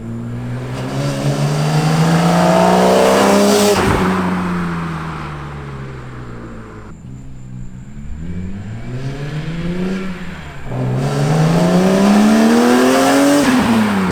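A BMW E46 M3 with catless headers revs hard in several long sweeps, its engine climbing and falling in pitch, loud and close, with no talking.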